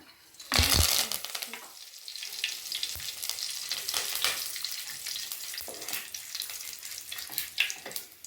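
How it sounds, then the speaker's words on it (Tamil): Curry leaves, cinnamon and cloves drop into hot oil with mustard seeds for tempering, a sudden loud burst of sizzle that settles into steady, close crackling and spitting. "கருவேப்பிலை ரெண்டு பட்டை ரெண்டு கிராம் போட்டு தாளிச்சிக்கலாம்"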